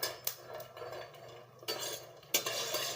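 Garlic is stirred and roasted in a pan for a spicy chutney. A metal spoon scrapes and clinks against the pan in uneven bursts, with a few sharp knocks, close and clear, with no talking.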